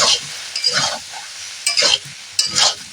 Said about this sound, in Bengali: হলুদের গুঁড়ো এবারে অল্প পরিমাণে জল দিয়ে দেব দিয়ে এবার নাড়তে থাকবো